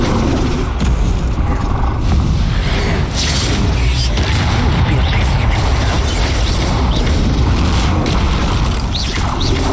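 Rumbling spell blasts from Bombarda and Confringo in Hogwarts Legacy roll on continuously, with creaking, mechanical clatter and heavy booms layered in a dense, loud game soundscape.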